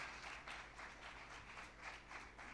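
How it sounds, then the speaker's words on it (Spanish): Church congregation giving applause to the Lord, rhythmic clapping that pulses in waves, fairly faint and distant throughout. "Demos un aplauso al Señor."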